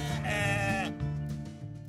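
Manech tête rousse ewes in the Basque Country bleat loudly and close, with one long wavering bleat followed by further overlapping bleats from the flock.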